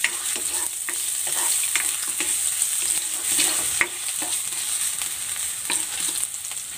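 Ginger sautés in a hot pan with a steady sizzle of frying, broken by short scraping clicks as a utensil stirs it. The sound is close and continuous, with no talking.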